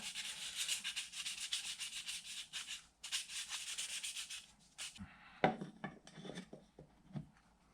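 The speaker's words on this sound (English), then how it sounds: "Just sanding the edges so I get a nice flat fit." Close, rhythmic sanding strokes rasp against the edges of a wooden box in quick back-and-forth passes, then slow into scattered scrapes and shuffles.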